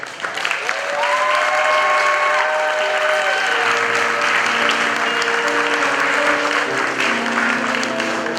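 Loud, sustained audience applause at a university graduation ceremony honoured by the Asantehene and Lady Julia Osei Tutu, dense clapping with crowd noise and faint tonal sounds running underneath.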